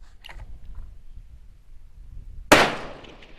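A Ruger American rifle in 6.5 Creedmoor fires a single sharp shot that is loud and abrupt and decays quickly, following a quiet stretch with low background rumble and a faint earlier clink.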